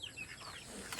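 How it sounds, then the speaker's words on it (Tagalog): A chicken clucks faintly at close range, short bird calls rising above a steady outdoor background. "May manok, may chicken."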